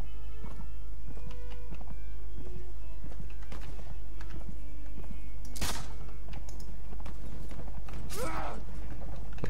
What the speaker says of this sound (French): Ok, ils arrivent avec des chevaux.